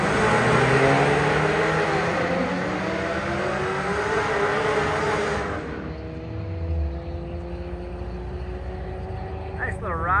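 Drag race car making a run down the strip at Bandimere Speedway, a loud sustained engine roar with rising harmonic sweeps that fades and drops off after about six seconds, leaving a quieter distant drone.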